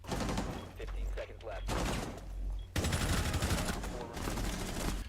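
Rook's gunfire in the Rainbow Six Siege video game, heard as rapid bursts of shots that run throughout, loudest in the last stretch, with in-game sounds and a voice mixed in.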